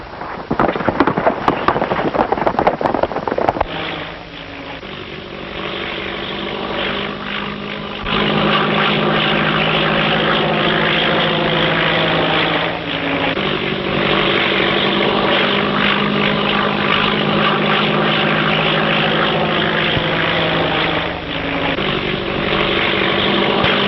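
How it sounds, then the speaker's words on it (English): Propeller airplane inbound from Los Angeles passing overhead on a steady eastbound course, its engine drone loud and continuous with a sharper burst at the start, then a sustained throbbing hum. "Hey, where's this plane coming from?"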